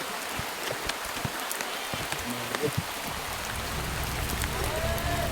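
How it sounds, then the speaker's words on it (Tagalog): Rain falls steadily outdoors as a soft, even hiss with scattered drops pattering on surfaces, continuous and moderately quiet throughout with a faint low rumble. "Mga idol, umuulan na po."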